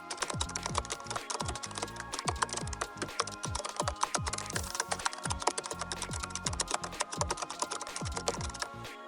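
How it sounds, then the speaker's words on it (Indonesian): A computer keyboard types an Arduino C++ program for a blinking LED. The keystrokes are dense and fast, close and continuous, over a faint background tone. "So, langsung aja kita ketik programnya."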